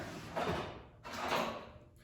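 A workshop drawer is pulled open with two rumbling sliding strokes, a long wooden scrape followed by a second one, close and moderately loud, with no talking.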